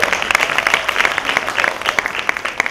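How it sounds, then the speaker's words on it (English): An audience at a talk breaks into brief, lively applause, a close mass of overlapping claps lasting a couple of seconds. "yes, y'all can clap for that"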